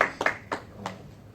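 A few scattered claps from an audience at a cinema talk after a film screening, three or four quick separate hand claps that fade out, fairly faint in a quiet room.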